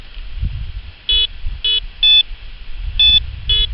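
A metal detector signal tone: a series of short electronic beeps in an irregular pattern, some higher-pitched than others, over low outdoor rumble and handling noise.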